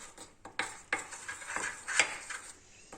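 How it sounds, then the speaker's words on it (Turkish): A spoon clinks and scrapes against a bowl while toothpaste is stirred into an apple cider vinegar mixture, giving a few sharp taps among quiet, close-up stirring. "Karıştırıyoruz."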